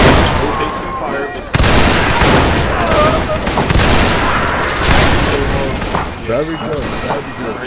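Massed musket volleys crack out in a Napoleonic Wars video game battle, dense overlapping gunfire bursts rolling through the whole stretch with booming reports, loud and close, with voices talking amid the shooting.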